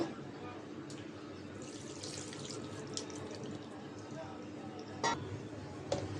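Water splashes and trickles into a pot of beef, with a couple of sharp metallic clinks near the end.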